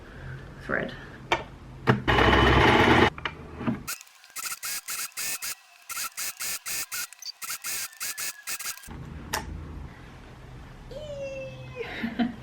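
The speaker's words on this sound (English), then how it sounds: "You obviously just saw me sew them right sides together" A sewing machine stitching fabric scraps right sides together runs in a rapid series of short mechanical bursts with brief pauses, loud and close; a person talks before and after.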